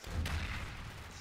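Explosion in the Call of Duty: Black Ops video game, heard as a loud, sustained rumbling blast with a deep low-end boom lasting over a second, with no talk over it.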